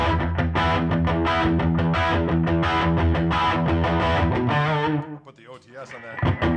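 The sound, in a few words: electric guitar with overdrive and slapback delay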